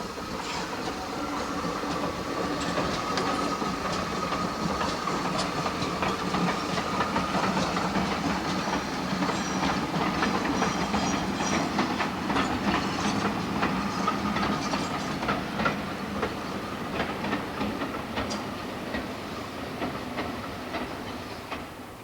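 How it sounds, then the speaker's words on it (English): A large Prairie steam locomotive departs with a passenger train on a Welsh railway, its steady rumble and clattering wheels rolling continuously and fairly close, with no voices. "we see the large prairie depart with a passenger train back to Bronwyth Arms"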